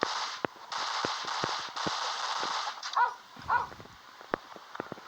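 Rapid gunfire from a Commando military shooting video game, sharp repeated shots cracking in uneven bursts over a steady game background hum, with a few louder isolated bangs near the end.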